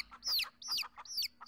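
A chicken clucks in short, repeated bursts, three or four close calls in quick succession over a faint steady hum.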